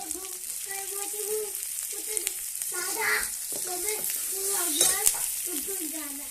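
Onion sautéing in oil for a dish made from leftover chapati gives a soft steady sizzle with occasional utensil clinks, partly under a woman's speech running through most of the clip.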